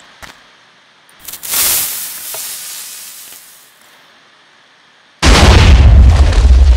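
A homemade TNT cannon fires, giving a short pop, then a rising hissing whoosh that fades, and finally a sudden loud, sustained roaring burst near the end.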